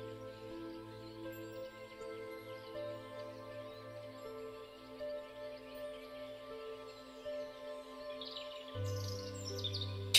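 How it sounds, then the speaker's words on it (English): Several birds chirp and sing at moderate distance in a calm outdoor setting over a steady low ambient hum, calls overlapping throughout with a slightly louder stretch near the end. "You can hear the birds singing to each other."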